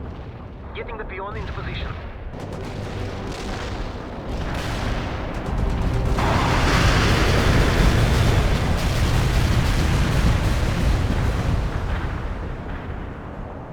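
An artillery barrage in World in Conflict: dense, rolling booms and crackling blasts overlap into a loud, sustained roar, with a voice speaking over the start.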